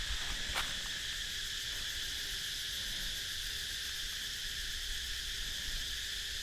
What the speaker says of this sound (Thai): เสียงจักจั่น